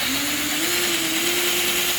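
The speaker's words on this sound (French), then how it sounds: "je peux visser simplement avec une visseuse" A cordless screwdriver drives screws into a wooden hive base, giving a steady, close motor whine that rises slightly in pitch and holds for about two seconds, with no talking.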